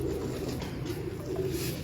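Pigeons coo in low, soft, rolling calls close by, a steady murmur of several birds with no speech over it.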